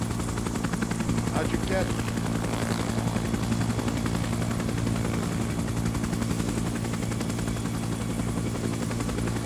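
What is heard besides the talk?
helicopter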